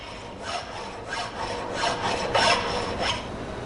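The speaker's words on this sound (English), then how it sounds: "Filing this piece of mild steel removes a lot of material with each stroke." A coarse file rasping across a piece of mild steel in a workshop, with a series of rough, scraping strokes that swell and fade in a steady rhythm, fairly close and moderately loud, with no voices.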